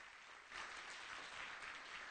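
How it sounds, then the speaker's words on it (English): An audience at a community forum claps for Sophie: a faint, distant patter of applause that starts about half a second in and holds steady to the end, with no one talking. "a round of applause for Sophie"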